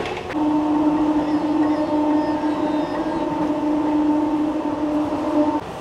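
A Barddhaman–Howrah chord line super local train runs at speed, giving a loud, sustained rumble of wheels on rails with a steady tonal whine from the cars, heard from on board.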